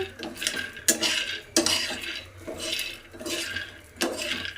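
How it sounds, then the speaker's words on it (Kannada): Peanuts dry-roast in a pan for a North Karnataka peanut chutney while being stirred, making repeated scraping, rattling strokes in an uneven rhythm, close and moderately quiet, with no talking. "ಕಡಲೆ ಬೀಜನ ಹುರ್ಕೊತೀನಿ. ಚೆನ್ನಾಗಿ ಹುರ್ಕೋಬೇಕು."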